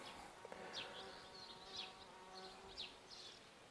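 Honeybees buzzing around nearby while foraging on mixed wildflowers, with a steady hum and several brief louder passes as individual bees fly close, no talking.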